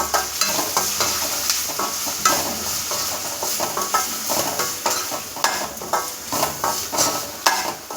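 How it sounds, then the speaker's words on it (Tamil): Onions sizzling in a pan with sambar powder, stirred steadily with a utensil, a continuous close hiss and scraping with no talk. "சாம்பாருக்கு தேவையான இந்த பொடியை வெங்காயத்திலே போட்டு நல்லா வணக்கிக்கணும்"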